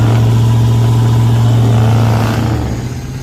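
A loud 5.7-litre truck engine rumbles steadily up close, then its note drops and fades slightly toward the end.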